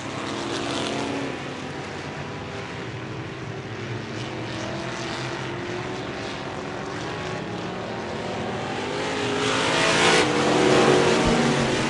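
Vintage race cars run a feature event on the Merrittville dirt speedway at night, their engines a steady, continuous roar that swells louder near the end as cars pass close by.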